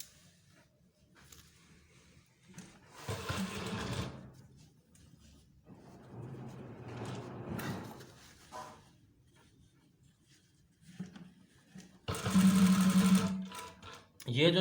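Sewing machine stitching police uniform trousers, running in several loud bursts with pauses between, the last burst strongest, amid handling noise and some talk.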